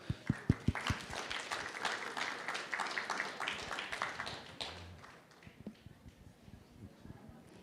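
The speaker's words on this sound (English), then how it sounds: "Give her a round of applause" An audience at a True Parents birthday celebration gives a round of applause, starting with a few sharp claps that build into a moderate, fairly quiet clapping that thins out toward the end.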